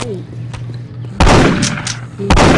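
Gunfire in the video game Postal 2 comes in two loud bursts of shots over a steady game soundtrack hum, with the second burst cutting in near the end.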